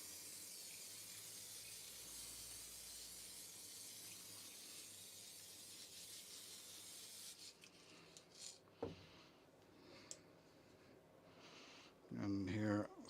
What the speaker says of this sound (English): so layering spray on again.